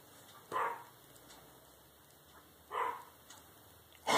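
A small dog gives three short, sharp barks spaced a couple of seconds apart against a quiet room hum.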